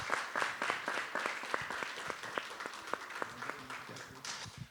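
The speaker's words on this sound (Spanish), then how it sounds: "Pues un aplauso para ellos, muchísimas gracias" Audience applause at a dialogue panel on education, sustained mid-distance clapping from a seated crowd with steady rhythm and some louder individual claps, fading slightly toward the end, with faint murmuring underneath.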